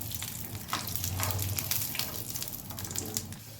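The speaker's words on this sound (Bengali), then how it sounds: "এখন আমি এর মধ্যে দিয়ে দেব চিনেবাদাম গোটা। চিনেবাদামগুলো সামান্য একটু ভেজে তুলে নেব।" Whole peanuts fry in hot oil in a pan, giving a steady crackling sizzle with small pops throughout, close and unaccompanied by speech.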